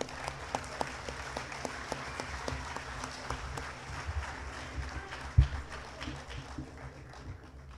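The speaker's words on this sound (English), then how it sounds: "One more round of applause for these guys." Distant audience applause at a school football assembly honoring the team, steady crowd clapping that stays faint and diffuse throughout, with a single louder thump partway through.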